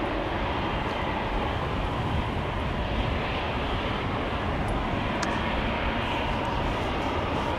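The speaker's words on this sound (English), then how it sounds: "Once again, departure action here at runway 18 left." Steady broadband jet roar of an airliner departing runway 18L, the Polderbaan, at Amsterdam Schiphol Airport, a continuous loud rumble holding level throughout without any talk.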